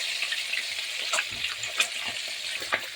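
Fish heads and tails fry in a pan with a steady, close broadband sizzle, crackling throughout and marked by a few sharper pops and spatters.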